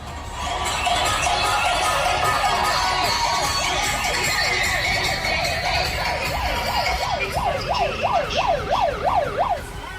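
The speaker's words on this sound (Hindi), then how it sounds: "लगातार बज रहे हूटर और सायरन की आवाज" Wailing vehicle sirens and hooters blare continuously over a noisy street crowd during a roadside stunt gathering, the siren sweeps growing louder and more pronounced toward the end.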